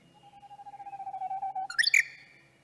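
A White's thrush gives a long, thin whistled note played back from a recording, rising steadily in loudness, then breaking into a brief higher, wavering whistle near the end, clear and alone.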